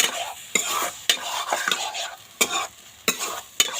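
A spoon stirs lentils frying in a pan with hot water, making repeated sharp scraping strokes against the metal at an uneven rhythm over a soft, steady sizzle, close and fairly loud.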